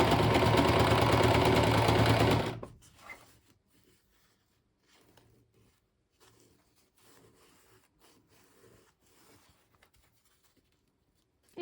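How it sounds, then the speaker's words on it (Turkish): Sewing machine running a straight seam on a bag lining, loud and steady for about two seconds, then stopping abruptly, followed by faint handling rustles and light taps. "Yani bu şekilde şimdi düz bir dikiş dikiyoruz."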